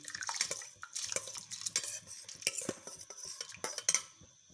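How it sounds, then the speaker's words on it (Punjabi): A spoon stirs rice kheer in a pot of milk, scraping and clinking against the metal in quick, uneven strokes close by, with no talking. "ਲਗਾਤਾਰ ਇਹਦੇ ਵਿੱਚ ਨਾਲ ਹੀ ਚਮਚਾ ਲਾਵਾਂਗੇ ਤਾਂ ਕਿ ਨੀਚੇ ਨਾ ਲੱਗ ਜਾਏ ਖੀਰ"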